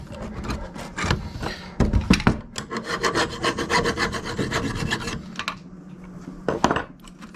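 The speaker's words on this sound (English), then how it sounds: "Hit that with a file a little bit." A hand file rasps across a freshly cut edge during an RV solar panel installation, with steady back-and-forth scraping strokes, close and moderately loud, pausing briefly before a few final strokes.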